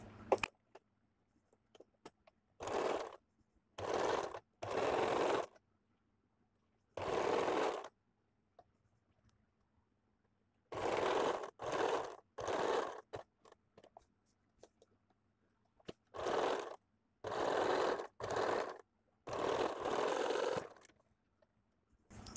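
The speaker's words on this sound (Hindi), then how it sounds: "मैं यहाँ से ऊपर से सिलाई लगा लूंगी।" A sewing machine runs in short separate bursts of stitching on a blouse, each lasting about half a second to a second, with quiet pauses between and a faint low hum underneath.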